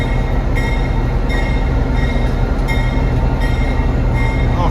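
An Amtrak train, number 176 bound for Boston, pulls out with a loud, steady rail rumble and a rhythmic clatter of wheels over the joints, heard close up with no talking.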